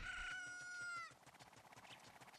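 Chickens in Ocarina of Time give a bright, squawking cluck with a tonal rising note first, followed by softer rapid clucking that fades, fairly quiet overall.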